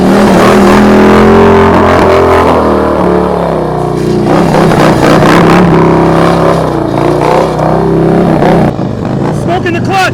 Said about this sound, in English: Smoking the clutch, you're smoking the clutch.